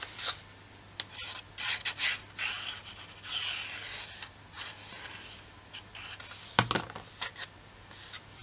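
Paper edge rasps as it is rubbed and bevelled for a scrapbook album, in a soft, continuous, close scraping with brief louder strokes and a faint low hum.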